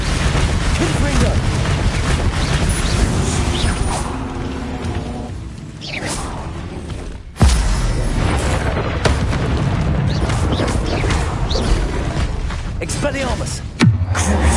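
A Confringo blasting spell goes off in the video game Hogwarts Legacy, with loud booming explosions over a dense game soundscape. One sharp blast stands out midway and another comes near the end, with speech running underneath.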